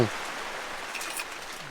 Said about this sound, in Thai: ฝนตก แล้วก็เต็นท์ไม่ได้กันฝนนี่น้ำรั่วมาเต็มเลยเนี่ย